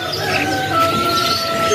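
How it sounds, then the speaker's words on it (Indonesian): Spotted dove (tekukur black spot) calling at a busy bird market in Jakarta, a faint cooing buried in dense chirping from many caged birds and steady market bustle. "Tekukur black spot."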